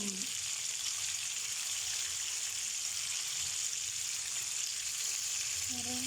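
Tuna sizzles and fries in butter in a pan, a steady, dense crackling hiss that holds constant throughout with no pauses. A faint low hum sits beneath it, and there is no speech.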